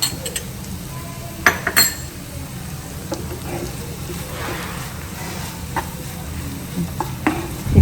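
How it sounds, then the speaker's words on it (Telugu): Tomato egg bhurji with garam masala sizzles in a pan while a spoon stirs it, with steady frying hiss and occasional sharp clinks of utensil on metal, close by. "దీన్ని బాగా వేయించాలి"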